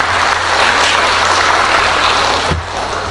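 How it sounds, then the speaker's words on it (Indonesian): Applause for the ICT and KKPI teachers at a gathering, a loud continuous hiss of many hands clapping, steady and dense like rain, with a low hum beneath. "Tepuk tangan dulu buat guru TK."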